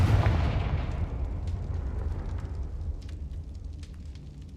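Confringo fire spell blast in the video game Hogwarts Legacy, a loud booming explosion that rumbles heavily at first, then trails off into scattered crackling debris and fire.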